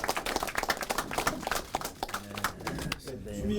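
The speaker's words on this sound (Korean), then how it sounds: "큰 박수로 환영해" An audience at a Korean political party election committee meeting claps in quick, dense rhythm to welcome a new co-chair. A speaker talks over the clapping toward the end.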